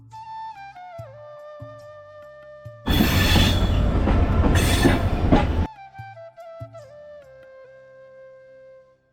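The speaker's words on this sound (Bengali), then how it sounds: "ট্রেন চলেছে তার নিজস্ব গতিতে।" Egarosindhu train running on rails from the airport toward Kamalapur, a loud roaring rumble of wheels on track that swells in for about three seconds, set against quieter musical tones before and after.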